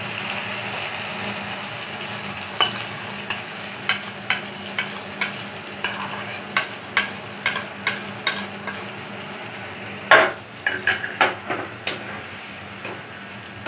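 Spices frying in a pan with potato, pointed gourd and prawn, a sizzling bed broken by a regular series of sharp stirring scrapes and clacks, with a louder cluster near the end.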